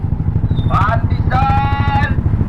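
A motorcycle rides through city traffic in Quezon City, its steady engine drone loud and close throughout, with brief higher whining tones from passing traffic over the rumble.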